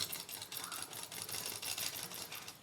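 A sewing machine stitches the center seam at the neck of a suit, a rapid close-up mechanical clatter with pulsing rhythm, loud and continuous with no talking.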